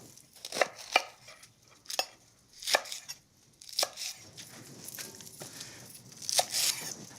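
A knife cuts radicchio trevisano into slivers on a board, with a series of crisp, uneven chops and tearing crunches, close and fairly quiet.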